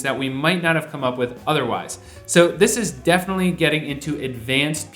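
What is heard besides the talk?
No everyday noise stands out behind the speech.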